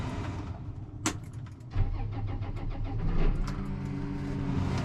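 A farm tractor engine runs at a steady idle, then revs up with a low rumble and holds at a moderate, even drone, close by with no talk.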